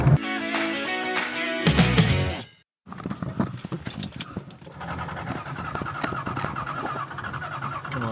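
A 1978 Aston Martin V8 Vantage with a V8 engine, heard from inside the car. A few seconds of tonal ringing end in a short silence, then the engine fires and runs steadily with a rough, throbbing note.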